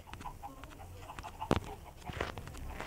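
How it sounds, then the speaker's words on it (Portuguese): A chicken being placed into a coop clucks in short, broken bursts over a murky background of rustling and thumps, close but not loud, with one sharper knock midway. "Vou botar a galinha aqui agora."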